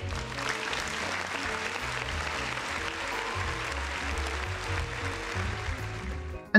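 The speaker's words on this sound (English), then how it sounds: "Applause for innocent death." Steady applause from a crowd, continuous clapping throughout at an even level, with no voices standing out.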